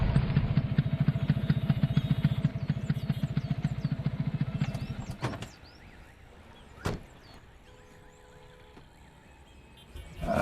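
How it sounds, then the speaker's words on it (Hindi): A motorcycle engine chugs close and loud with a steady rapid pulse for about five seconds, then cuts out, leaving quiet room tone broken by a single sharp knock. "हम बाइक पे आ रहे हैं, चलो।"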